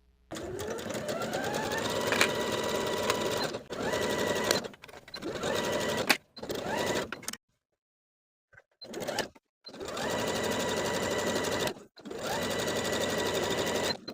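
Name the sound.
sewing machine stitching gusset to back of shorts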